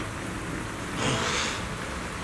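Steady rain hisses in the Zenless Zone Zero video game, a dense wash of falling drops that swells briefly louder partway through before settling back to an even patter.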